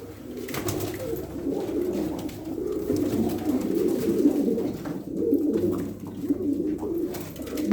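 Adana pigeons, white birds among Kefçil Dolapçı and Angut breeds, coo steadily in a continuous low warbling chorus, close and fairly loud throughout, with no voices over them.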